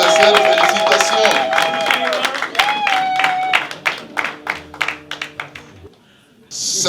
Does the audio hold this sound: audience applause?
yes